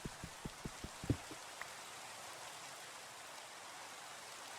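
Rain falls in Minecraft with the ATM8 modpack, a steady soft hiss of heavy downpour. A few faint low knocks come near the start, and no one speaks over it.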